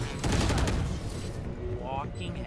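Rapid gunfire from the video game Valorant crackles through the first half of the moment in dense bursts, then thins out as game effects and faint tones follow, with voices speaking over the action.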